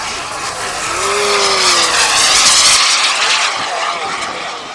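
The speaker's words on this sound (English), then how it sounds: "Going to line up, going to do a high-speed pass." Radio-controlled model jet making a high-speed pass at a hot air balloon festival, a turbine whoosh that swells to a loud roar and then fades as it passes by, with a person talking briefly under it.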